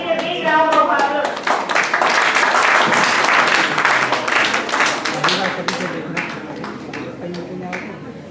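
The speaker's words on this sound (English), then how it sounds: "Please I need a big round of applause." Audience applause at a 2025 graduation ceremony, with many hands clapping loudly and densely. It holds strong for several seconds, then thins to scattered claps near the end.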